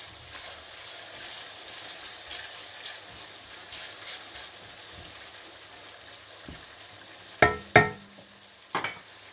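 Tomatoes fry in a pan for daal palak with a low, steady sizzle, then a few sharp clanks of a utensil against the pan come near the end.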